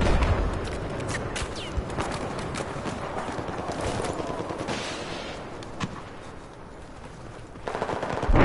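Video game gunfire in Battlefield 4 comes as dense, continuous automatic fire mixed with scattered shots, loud and close for most of the stretch, thinning slightly before a final burst.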